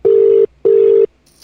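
A telephone ringback tone heard while calling, two loud, even electronic tone bursts of about half a second each separated by a short gap, followed by a faint trailing noise.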